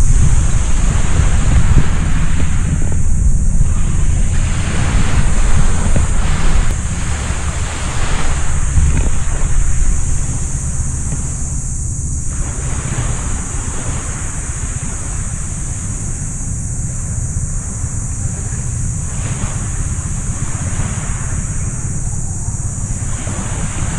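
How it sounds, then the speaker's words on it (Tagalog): Continuous ocean surf washing onto the shore at Puerto Galera, Oriental Mindoro, a steady broad roar with gentle swells and some wind noise, no voices. "talagang yung alon lang ng dagat ang naririnig mo"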